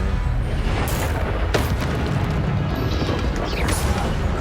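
Incendio fire spell cast in Hogwarts Legacy: a burst of roaring, crackling flame with booming impacts under continuous game noise and music, with no clear talking.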